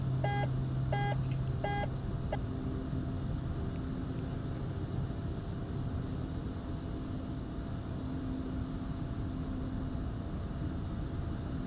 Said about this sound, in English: There is a gear warning buzzer over here that you can click.